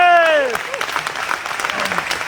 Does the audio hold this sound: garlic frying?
no